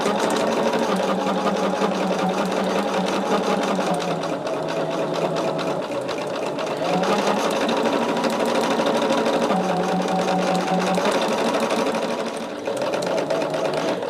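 A sewing machine joins rows of a quilt in long, loud bursts of rapid stitching close by, pausing briefly between seams as its motor pitch shifts.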